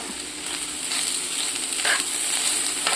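Onion flower stalks for a stir-fry are stirred in a hot pan, a continuous loud sizzle with soft scraping strokes of the spoon, close up and with no talking.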